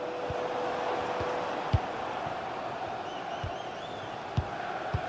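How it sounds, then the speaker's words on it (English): Simulated stadium crowd from the FC 26 football video game, during a Chelsea versus Nottingham Forest Premier League match, roars in a steady wash of chanting and noise, with occasional thumps and no commentary. "The crowd certainly think so. Just listen to them."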